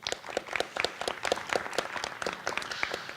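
A round of applause at the 2018 Madison Cup debate event, dense clapping from an audience filling the whole moment, steady and fairly close, with no talk over it.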